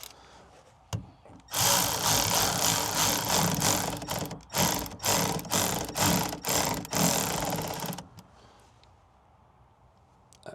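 A ratchet tightens a 10 mm bolt inside the passenger door of a 2014 Honda during a door cable replacement, giving a loud, continuous fast clicking burst broken by short pauses, then stopping into quiet.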